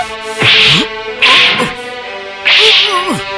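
In an Indian Hindi-language film scene, a whip lashes three times in a close, loud sequence. Each crack is followed by a pained human cry.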